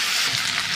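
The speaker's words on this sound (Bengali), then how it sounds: "আলু দিয়ে দিয়েছি, ভালো করে আলুটাকে ভেজে নেবো।" Cut potatoes frying in a pan with onion, tomato and green chilli for a Bengali egg chorchori, a brief, dense, bright sizzle at steady volume, no voices.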